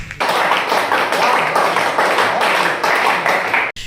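Loud, sustained audience applause at a Hindi comic poetry gathering (hasya kavi sammelan), dense steady clapping filling the space before stopping abruptly near the end.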